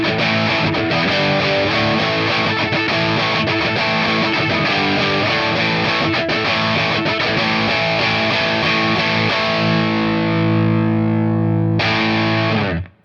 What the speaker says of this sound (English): This is a Burny, a Les Paul Jr. type guitar, double cut.